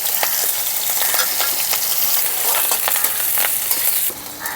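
Chopped garlic, ginger and chilli fry in a pan over a high flame, giving a loud, dense, continuous sizzle that eases slightly near the end.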